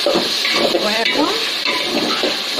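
Broth poured into a simmering curry, giving a continuous close splashing, bubbling liquid sound with a steady sizzle under it.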